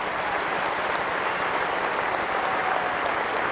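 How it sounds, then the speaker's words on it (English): Football fans in a stadium applauding, a dense, steady wash of clapping and crowd noise heard from a distance, with no break across the short stretch. "And now, round of applause from the fans here."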